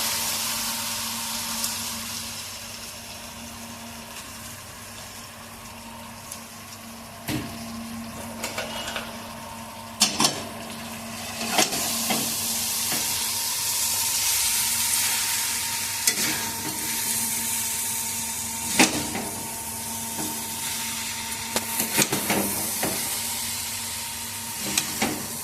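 Chicken chow mein noodles sizzling steadily in a hot pan, with a spatula scraping and clanking in irregular strokes as the noodles are stirred, close and alone without talk.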